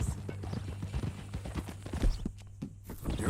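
Horse hooves clip-clop at a walking pace in Red Dead Redemption 2, a steady close rhythm of soft thuds over a low ambient hum, with no talk during the steps.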